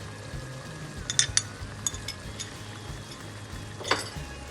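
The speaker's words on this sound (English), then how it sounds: "Give it a good stir." A spoon stirs seasoned tomato sauce with red pepper flakes, oregano and salt in a pot, giving soft scraping and a few light metallic clinks over a low background hum.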